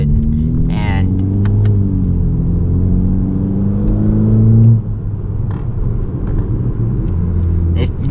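A 2019 Honda Civic Sport with its K20C2 engine and a muffler delete, heard from inside the cabin: a loud, droning exhaust rising and holding through a rev, then easing off, with brief ticks and rustles over the rumble.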